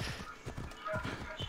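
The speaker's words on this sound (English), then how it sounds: "Alright, time to call in the horse" Clip-clop hoofbeats of a summoned white horse in Assassin's Creed Odyssey, a quick trotting rhythm up close with a short whinny mixed in and someone talking over it.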